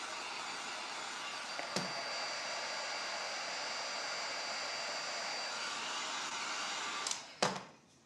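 A hair dryer blows steadily on fresh paint, a loud close whoosh that runs unbroken for several seconds before it is switched off with a few knocks and a short burst at the end.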